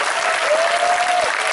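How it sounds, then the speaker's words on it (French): A church congregation at a prayer retreat applauding, dense steady clapping throughout with a faint voice or tone held beneath it. "Est-ce qu'on peut acclamer Jésus-Christ?"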